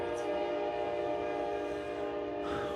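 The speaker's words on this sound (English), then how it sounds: "There's a train going by." A train rolls past sounding its horn, a sustained multi-tone blare holding steady over distant rail rumble, moderately faint and with no talk over it.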